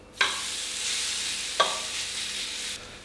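Sweet potato waffle batter lands in a hot, oiled waffle iron and sizzles steadily at close range. Two sharp clicks or taps interrupt the sizzle before it cuts off near the end.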